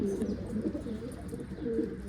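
Pigeons coo softly and repeatedly, low throaty calls overlapping against a quiet background, with faint chirps.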